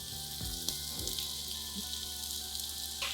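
Ginger sizzling among browned onions in a hot pan, a steady frying hiss with a few soft stirring clatters near the start, close and moderately loud.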